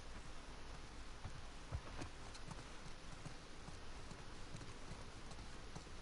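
Faint, steady horse hoofbeats clip-clop along in The Last of Us Part II video game, under a constant hiss of background noise, distant and rhythmic throughout.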